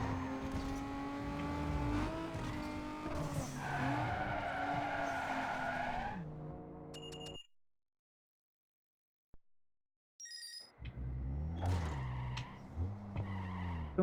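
A race car in Need for Speed: Underground 2 roars and revs with loud tire squeals and skidding, cuts to silence for a few seconds, then returns with engine noise and more screeching.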